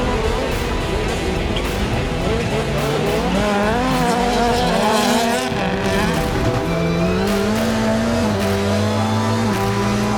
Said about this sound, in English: In the final heat race, Sandell's yellow Subaru lands another strong finish